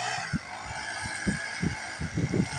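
A chicken pecking at food in a village yard, giving short low clucks in an irregular series, close and fairly quiet over a faint background hiss.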